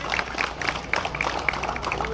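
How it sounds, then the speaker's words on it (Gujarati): Applause greeting a guest at a political party meeting, a dense crowd clapping steadily throughout with scattered sharper claps, under some background voices. "એકવાર એમનો જોરદાર તાળીઓથી આપણે સ્વાગત કરશું"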